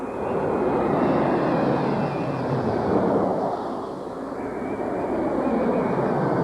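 Jet airliner engines roar steadily at Stapleton airport in Denver, a broad, loud, continuous rumble that swells and eases slightly as an aircraft passes, with no voices.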